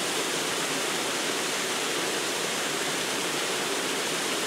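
Lost Creek Falls roars steadily in winter, a dense unbroken rush of water filling the space with no other sounds.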